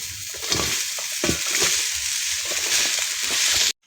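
Pieces of bottle gourd hit a hot kadai and sizzle loudly and continuously, with a few clattering thumps as they land, before cutting off abruptly.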